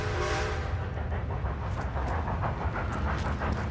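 An approaching train in the video game Red Dead Redemption 2, a steady rumbling roar with hiss and faint rhythmic clatter that holds throughout, no voices.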